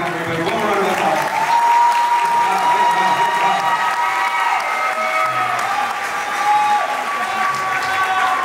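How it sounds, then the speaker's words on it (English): A school audience claps after a middle school honors band Christmas concert, steady, full applause sustained for the whole stretch, with some cheering and a few voices mixed into the clapping. "One more round of applause."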